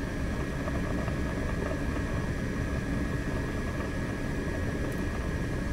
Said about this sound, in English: when the blower kicked on, it stayed kind of sketchy for a minute